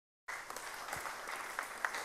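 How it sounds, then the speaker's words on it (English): A congregation at a church gathering breaks into applause after a brief silence, a sudden onset of dense clapping that stays steady and moderately loud to the end. "Give her a round of applause."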